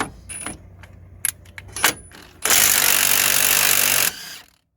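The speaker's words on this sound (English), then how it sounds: "just gonna undo the bottom nut here to release the hub from the strut." A bottom nut is undone on the suspension strut of a Nissan Note to free the hub: sharp metallic clicks and clanks of a tool come first, then a loud, steady rattling burst of an impact gun for about two seconds, up close.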